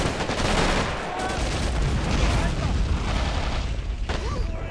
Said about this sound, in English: Possibly artillery round or something landing on us there. Mortar, perhaps.